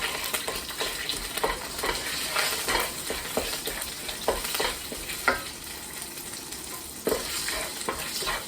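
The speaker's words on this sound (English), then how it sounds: "So I'm just gonna cook it in the oil." Curry paste for a keto pad prik king sizzles and spatters steadily in hot oil, with frequent scraping and stirring strokes from a utensil against the pan. The sound is close and continuous.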